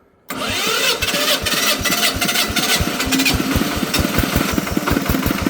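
A walk-behind tractor (motoblock) engine starting: a brief quiet moment, then the engine catches and runs at once with a steady rapid chugging idle, close and loud.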